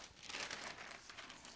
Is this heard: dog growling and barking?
no